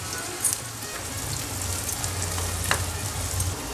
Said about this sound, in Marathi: यात आता तेल घालून घेऊया. तेल गरम झालेला आहे. यात आता चिरलेला कांदा घालून घेऊया.